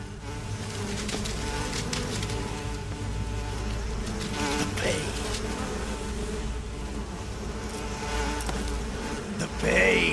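Hornets buzz continuously in the video game Metal Gear Solid 3, a dense, steady insect drone that stays loud for about ten seconds and swells near the end.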